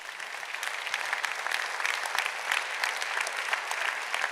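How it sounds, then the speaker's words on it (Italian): At a literary prize ceremony, the audience gives a sustained round of applause, a dense, lively clatter of many hands that fills the hall without pause. "Ancora un applauso."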